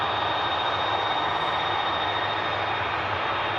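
A Turkish Airlines Airbus A330 heavy jet taxis off the runway, its engines producing a steady, loud, broadband whine and roar that holds constant throughout with no voices.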